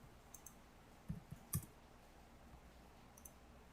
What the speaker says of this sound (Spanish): Doy doble clic y ya tengo las marcas de clase.